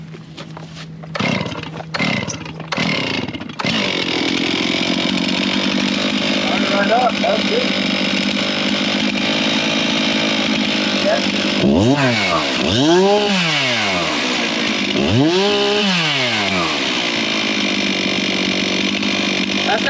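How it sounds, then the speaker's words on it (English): Freshly tuned chainsaw engine idling steadily after a few sharp start-up pulls, then revving hard twice in rising and falling surges, close and loud, with someone speaking briefly. "you gotta crank it up and rev it a couple times to see if it hesitates"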